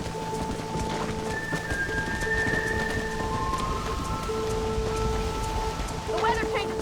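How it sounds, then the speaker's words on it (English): Steady rain from a sudden storm in the video game Red Dead Redemption, a continuous wash of rainfall with hoofbeats and game music tones running through it, loud and close throughout. "This storm came out of nowhere."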